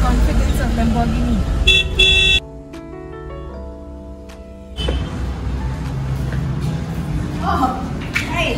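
Car horns sound in an auto-rickshaw traffic jam: a long, loud, sustained honk in the middle, with shorter toots before it and engine and road noise around it. People talk over the traffic.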